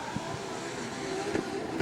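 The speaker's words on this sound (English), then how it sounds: "Roaring down that straight as they rip into that first outer zone." Drift cars roar down a straight at a national drift championship final, a steady distant engine drone with rising pitch under faint commentary.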